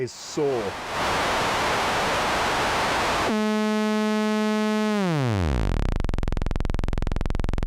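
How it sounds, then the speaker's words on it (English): On a 2600 synthesizer, a burst of hissing noise gives way to a buzzy, harmonically rich sawtooth tone from oscillator 3. The tone glides downward in pitch, then settles into a low, steady drone. "And then oscillator 3 is saw."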